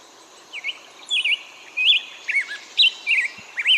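Short sweet whistled phrases of a black-headed grosbeak repeated several times over a faint steady hiss of background ambience at Metcalf Creek, Big Bear Lake.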